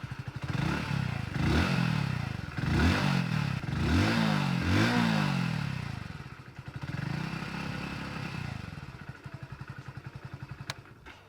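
A Hero Splendor+ commuter motorcycle engine runs close by, blipped through several quick revs that rise and fall in rhythmic surges before settling into a steady idle.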